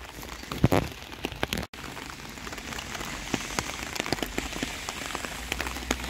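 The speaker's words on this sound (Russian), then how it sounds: "Дождь, ливень." Heavy May downpour pounding steadily on surfaces, a dense continuous hiss of rain with scattered louder drops and splashes close by, with no voices.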